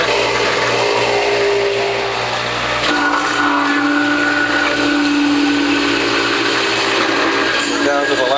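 A WHF juicer grinds through strawberry, ginger and turmeric root, a loud, steady whirring motor with a shift in pitch partway through as produce feeds in.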